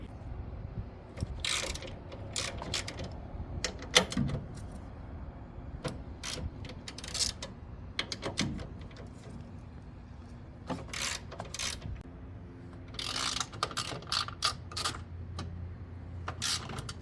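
A ratchet works in bursts while the stock intakes are removed from a BMW F80 M3, rapid clicking runs near and fairly quiet, broken by pauses and clunks of parts, with one longer ratcheting spell near the end.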